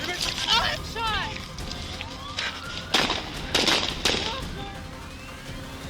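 Sharp gunshots crack out amid chaotic shouting voices and commotion during a police shootout, a few abrupt reports breaking through the noisy scene.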